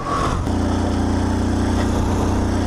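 A Honda C70 motorcycle rides in second gear with a close, steady, buzzy engine note that briefly lifts early on and then holds an even putter.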